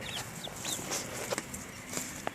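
Chickens cluck softly in their coop on their first night there, with short scattered calls and faint peeps close by over a steady background hiss.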